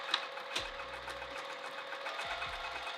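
A sewing machine stitches fabric held in place with clips, its motor humming in two short bursts separated by a pause, quiet and close against a faint background.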